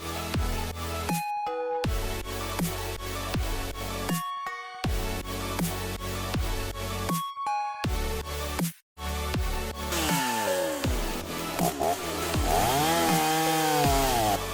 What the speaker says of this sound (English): This worker shows impressive chainsaw skills with every precise cut.